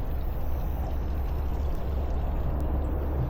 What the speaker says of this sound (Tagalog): Sarap pakinggan ng tunog ng tubig dun oh.